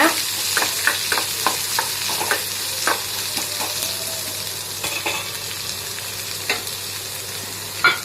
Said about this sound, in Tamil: அந்த வெங்காயத்தை இதில் போட்டுக்கோங்க அதை நல்லா வந்து வதக்கி விடுங்க